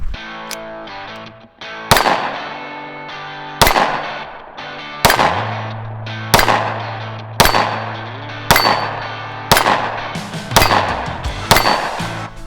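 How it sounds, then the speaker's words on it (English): Loud, close gunshots ring out in a steady series of about eight sharp reports, each followed by a long metallic echo, during outdoor target shooting practice on the Rimrocker Trail. "right now, we are gonna shoot some guns, and I'm gonna practice my marksmanship"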